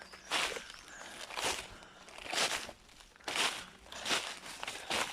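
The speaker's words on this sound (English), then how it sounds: "The sound of the crunching." Boots crunch over icy, frozen ground on a cold morning, about one crisp step per second in an even walking rhythm, close and alone.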